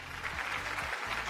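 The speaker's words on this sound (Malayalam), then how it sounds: "നല്ലൊരു കൈയടി" Studio audience applause at a Malayalam TV game show after a contestant wins entry to the next round, a steady dense clatter of clapping holding evenly throughout.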